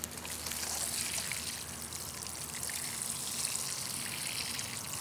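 Vegetable garden watered by hand from a watering can or sprayer: a steady, soft hiss of water falling and trickling onto soil and leaves, continuous and close, with no voices.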